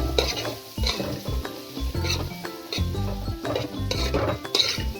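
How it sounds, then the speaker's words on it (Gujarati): Onions frying in a pan while being stirred steadily: a close sizzle runs under repeated clinks and scrapes of a utensil against metal, with no talking. "સતત હલાવતા રહી અને ગોલ્ડન બ્રાઉન કલરની થવા દઈશું"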